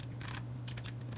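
Someone types a command on a computer keyboard while setting up an Arduino motor-driver project; quiet, quick clusters of key clicks over a steady low electrical hum.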